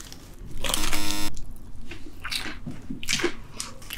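Biting and chewing into a very spicy fried chicken drumstick, with crunchy bites and wet mastication sounds, close up, alongside a short tonal beep early on.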